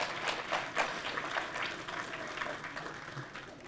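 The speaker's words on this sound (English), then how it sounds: "Let's give Farhad a round of applause." Applause from a civic State of the City 2023 audience honoring a guest named Farhad, a dense, fairly soft patter of many hands clapping across the room with no voices over it.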